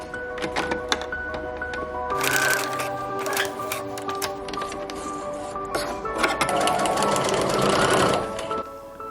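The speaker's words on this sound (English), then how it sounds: "and I started sewing again" A sewing machine stitching thread through fabric for a sewn still-life artwork, a steady close mechanical whir with rapid needle clatter in two longer runs, loud and alone without speech.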